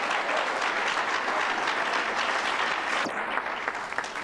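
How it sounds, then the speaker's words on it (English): A religious gathering's audience bursts into sustained applause, a dense, loud wash of many hands clapping for several seconds and thinning slightly toward the end. "Now, some people clap because they believe it, and that's why they clap."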